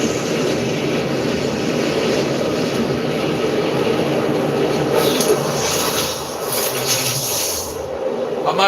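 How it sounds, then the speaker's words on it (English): Steady roar of a jet aircraft engine in the video game Fortnite, loud and continuous with a rising whoosh toward the end, no talk over it. "I might be able to get right into the jet there."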